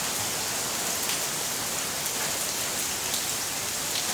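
Heavy, continuous rain pours down during Cyclone Remal, a dense, steady hiss of drops striking surfaces. No voices, and the downpour stays even and enveloping throughout.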